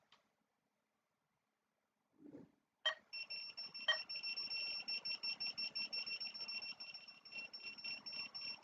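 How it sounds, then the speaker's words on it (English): A bench power supply's overcurrent alarm, tripped by a load drawing over 200 mA, sounds a steady, rapidly pulsing high-pitched beep that continues for several seconds after a couple of brief clunks. "That's just the alarm on my power supply because it's going over 200 MA."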